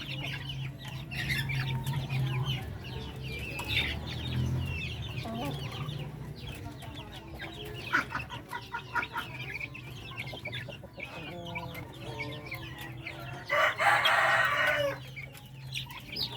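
Two-month-old chickens on a Filipino farm cluck continuously in a busy flock, with overlapping calls, occasional louder squawks and a rooster crowing near the end, fairly close.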